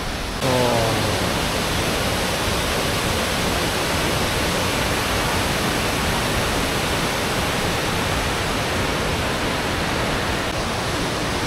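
A waterfall in Montenegro produces a dense, even rush of water, loud and constant from start to finish, with no talking.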